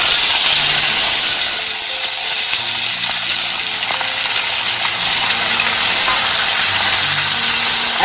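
Onions drop into hot sesame oil with crackled cumin, giving a loud, dense, continuous hissing sizzle close up with no talking.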